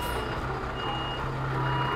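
A garbage truck is reversing and maneuvering in stopped street traffic, its reversing alarm beeping steadily over a loud, continuous engine rumble.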